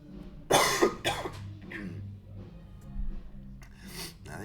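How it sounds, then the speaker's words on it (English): A man coughs several times in a quick loud burst, then a few softer rasping coughs and throat sounds follow, close to the microphone with no other sound. "I just need to give it some coughs to really get it going"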